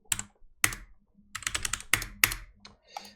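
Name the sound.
computer keyboard key presses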